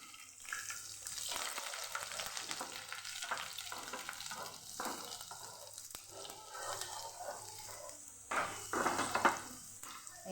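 Garlic cloves sizzle and fry in a pan of hot oil, a steady crackling hiss with occasional louder spatters near the end, heard alone and close up.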